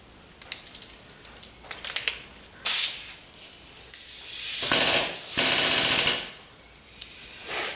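Compressed air from a shop compressor hissing into a hoist's new pneumatic ram, with clicks and clanks of fittings, then several loud bursts of rushing air, the longest lasting over a second, close by.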